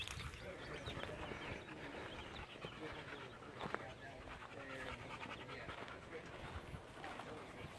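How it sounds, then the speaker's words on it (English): A guard dog pants steadily and close by in a farmyard chicken coop, a continuous breathy rhythm over faint bird and chicken noises in the background. "This is Midnight, the guard dog."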